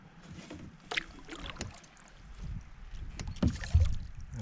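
An Old Town canoe paddled with a double-bladed paddle on a Scottish loch in a stiff headwind, giving irregular paddle splashes and water swishes, the strongest strokes near the end, with light wind noise behind.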